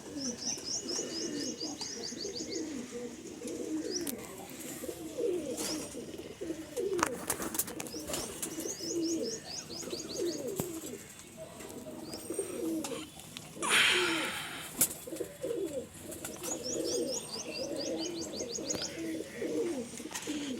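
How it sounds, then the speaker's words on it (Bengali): Breeder pigeons in a loft coo in repeated low, throaty rolling calls, several birds overlapping, with scattered chirps, wing flutters and clattering movement throughout. "এটা আমার বিডার সেকশনের পায়রা, এদেরকে দুবেলা খাবার দিই।"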